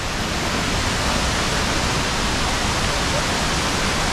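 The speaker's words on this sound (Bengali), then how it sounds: "একের পর এক ঝর্ণা আসছে" Waterfall along the mountain trek from Gaurikund to Kedarnath, a loud, unbroken rushing roar of falling water filling the whole moment with no pauses.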